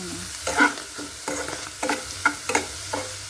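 Shellfish sautéing in a pan, a soft sizzle broken by a series of scraping, clattering stirs at an uneven rhythm, close and fairly quiet.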